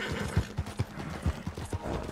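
Horse hooves walking in a video game on a rural back-roads trail, a steady muffled clip-clop of evenly spaced thuds, fairly close and alone.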